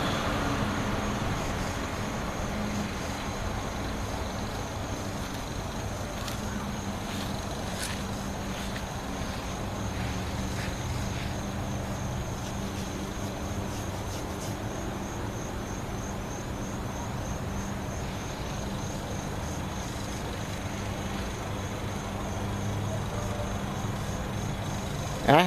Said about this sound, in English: And we'll check the spin down time now.